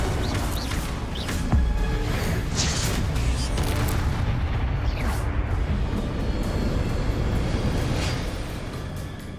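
Incendio and Confringo spells go off in Hogwarts Legacy as a dense barrage of loud booming blasts and rumbling impacts, rolling on continuously with no clear gaps between them.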